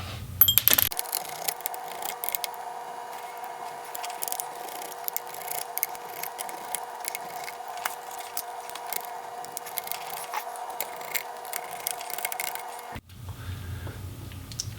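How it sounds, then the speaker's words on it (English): Screws being removed from the heatsink of an Alienware 17 R5 laptop: a steady mechanical whine runs for most of the time with small clicks and rattles, close and fairly quiet, and it cuts off near the end. "So we'll go ahead and remove the screws."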